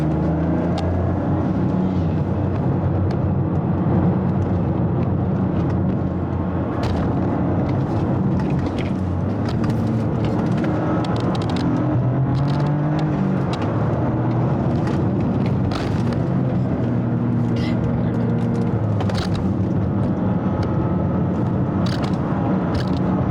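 A Toyota GR Corolla driven hard along a winding public road, a steady engine drone rising and falling through gear changes, with road and wind noise heard from inside the car.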